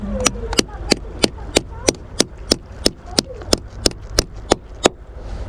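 A chisel strikes rock to harvest oysters in about fifteen sharp, evenly spaced metallic taps, close and loud, with faint background noise between blows.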